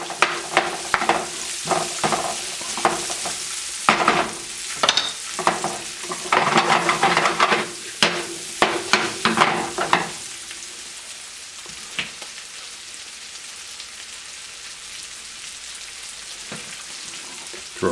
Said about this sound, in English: Let these onions start to get a little cooked there, and then I'm going to throw the garlic in at the last.